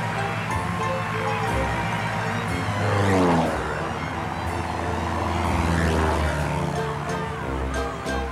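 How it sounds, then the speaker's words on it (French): A propeller airplane drones loudly and steadily, its engine pitch sweeping as it passes close by, with a continuous low hum throughout. "Mais c'est l'avion d'Alex Dumas"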